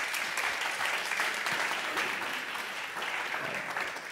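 Steady audience applause at a tourism forum, moderately distant and fairly quiet, continuous clapping throughout with no speech on top.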